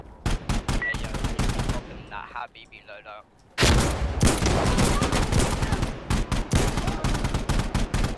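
Rapid bursts of M1 rifle fire and surrounding gunshots in the video game Insurgency: Sandstorm, loud and dense, with a brief quieter lull before the barrage resumes.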